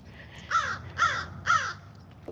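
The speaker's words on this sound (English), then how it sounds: "them birds just make me scratch" Crows caw three times in an evenly spaced series, harsh and fairly close, over a low outdoor background with no talking.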